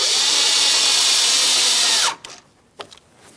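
Power driver running in a 7mm mounting bolt on a 2015-2025 Ford Transit 250 mirror, a loud close whine for about two seconds that winds down, then a couple of light clicks.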